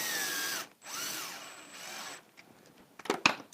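A power drill drives a screw into the Z axis assembly of a Printrbot Smalls 3D printer kit, two close whirring bursts with a brief pause between them, then a few quieter clicks and taps to finish.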